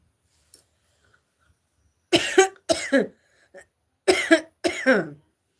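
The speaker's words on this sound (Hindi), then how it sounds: "बोलती हूँ तो और ज़्यादा आती है खांसी।" Two pairs of harsh, dry coughs, close by and spaced a couple of seconds apart, with near silence between them.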